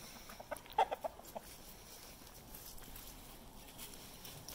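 A few short, soft clucks from chickens early on, then quiet outdoor background with faint rustling.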